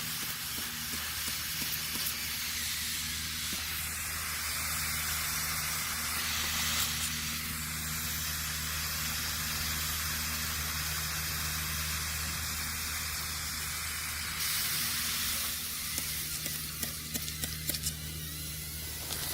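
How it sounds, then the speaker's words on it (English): A loud, continuous hiss of water sprayed onto freshly melted gold with borax runs the whole time, steady and close, with faint mechanical hum underneath. "If you spray it really quick, a lot of the borax will come off."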